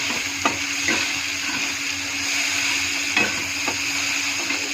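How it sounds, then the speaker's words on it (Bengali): Chopped tomato sizzles steadily in a hot pan with cardamom, a constant frying hiss broken by a few sharp clicks and scrapes of a stirring spoon, close and clear with no talk. "কাটা টমেটোটা ঢেলে দিয়ে একটু নেড়ে চেড়ে"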